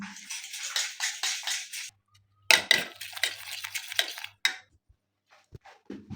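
A spoon scrapes and clinks around a metal bowl, mixing chicken marinade of salt and ginger garlic paste in steady close strokes, pausing briefly before a second burst of stirring and clatter.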